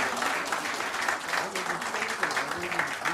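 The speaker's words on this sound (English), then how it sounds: "Let's give our student minister a round of applause, Brother Willie." A mosque congregation applauding a student minister, a dense wash of clapping hands that continues steadily throughout, with voices and cheers mixed in.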